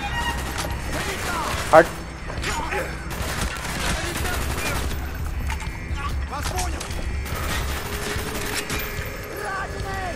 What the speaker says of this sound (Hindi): अरे मेरे पे पहले फायरिंग कैसे स्टार्ट हो गई?